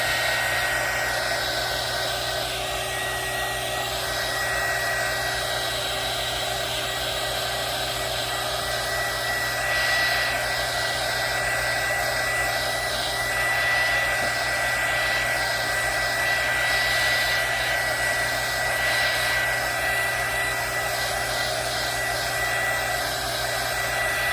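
A hair dryer blows continuously at close range to dry UV resin jewelry, a loud steady whirring roar with a constant hum that holds for the whole stretch without talk.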